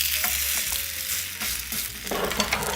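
Burdock pancakes fry in a pan with a steady close sizzle, broken by a few light scraping stirs of a utensil, and no one talks.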